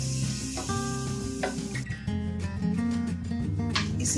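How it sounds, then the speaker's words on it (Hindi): Potato (aloo) papad frying in hot oil, a steady close sizzle running under background music. "हम इसी तरह से और भी पापड़ तलकर तैयार करते हैं।"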